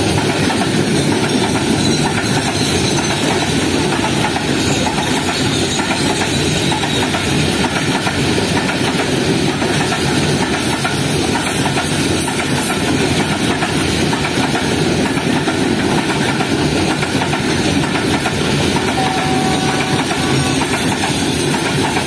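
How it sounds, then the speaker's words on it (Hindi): The Baba Fareed Express rushes through Rahim Yar Khan station at speed, heard from on board as a loud, steady roar of wheels and carriages with continuous rattling for over twenty seconds. "काफ़ी अच्छी स्पीड में स्किप किया है ट्रेन ने रहीमिया खान रेलवे स्टेशन को"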